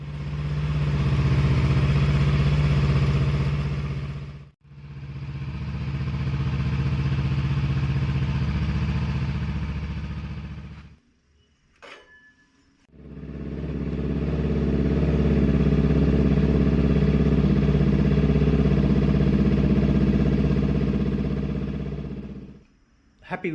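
Honda NX500 motorcycle exhaust running steadily right beside the muffler, a loud, continuous low engine drone in two long stretches separated by brief gaps, with a short quiet break before it resumes.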